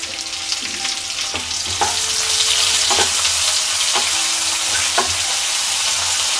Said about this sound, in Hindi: प्याज मेरा हल्का सा शैलो फ्राई हो गया है